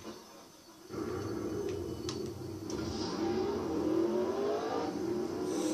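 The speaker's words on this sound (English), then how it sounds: "I'll get myself an ATV and I can get out of here." An ATV engine revving in the Roblox game Mad City: a whirring motor kicks in after a quiet start and holds a steady drone, rising in pitch and loudness toward the end, with a few sharp clicks along the way.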